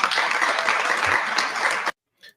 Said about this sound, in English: the polite applause there, the golf claps are hilarious